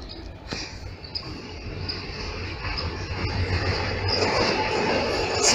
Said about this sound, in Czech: Takže tamhle pojede tady vlak